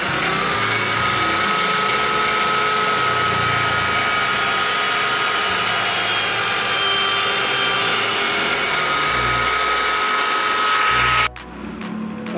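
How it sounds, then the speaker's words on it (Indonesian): Steady high-pitched whine of a small drill boring through a coconut shell ring along a marked line, loud and continuous at close range before stopping abruptly near the end. "Langsung saja kita bor sesuai garis."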